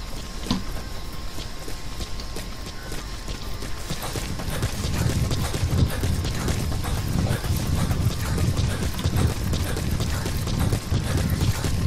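Horse hooves pound steadily in a fast gallop in Metal Gear Solid V: The Phantom Pain, a dense continuous drumming with a mechanical, game-like texture throughout.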